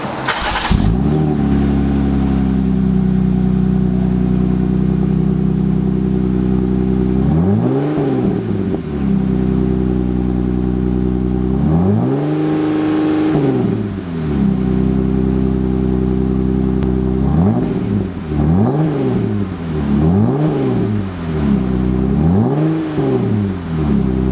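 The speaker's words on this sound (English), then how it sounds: "we're going to do the first startup and see how it sounds" Jeep Gladiator with a DIY exhaust, first startup: the engine catches and settles into a loud, close, rumbling idle with several rising and falling revs spaced through the run, no talk.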